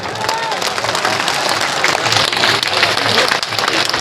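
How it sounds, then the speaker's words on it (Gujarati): A large crowd at a Thakor community convention in Ogad claps together with hands raised. The applause is dense, loud and steady, with some crowd noise running through it from start to finish. "બે હાથ ઊંચા રાખીને તાળીઓ પડે ખબર પડે"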